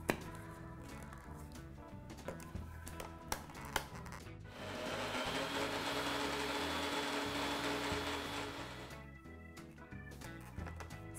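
A small electric grinder jar whirs loudly for several seconds, grinding about two tablespoons of green tea leaves into fine powder, after a few light knocks and clicks, then cuts off.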